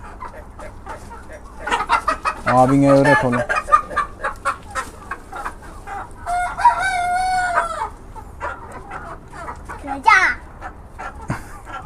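Breeding-candidate chickens being leg-banded: one rooster gives a short crow, then a longer, strained crow follows a few seconds later, with clucking and a voice speaking around them.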